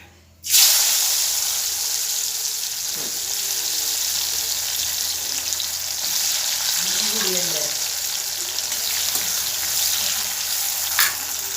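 Loud, continuous sizzling of salted mango pieces frying in hot oil for pickle, starting abruptly as pieces hit the pan, with faint stirring and a brief muffled voice.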